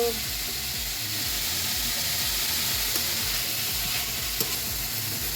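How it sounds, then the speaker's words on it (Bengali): Vegetables for noodles frying in a pan, a steady continuous sizzle with faint stirring clicks, close and even throughout with no talking. "ফ্রাই করতে একটু টাইম লাগবে।"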